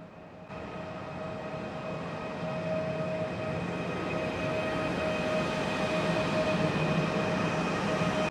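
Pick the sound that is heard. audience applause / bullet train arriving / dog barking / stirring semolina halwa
bullet train arriving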